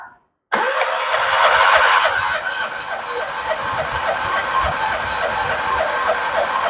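A Perodua Viva 850 engine cranks and starts after a compression test. After a moment of silence it catches abruptly, then runs loud and close with a rough, steady idle and a faint rhythmic ticking.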